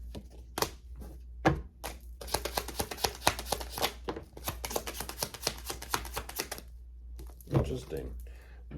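Tarot cards shuffled by hand in a rapid run of crisp riffling flicks and soft thumps, fairly close, with a few pauses between passes and quiet speech now and then.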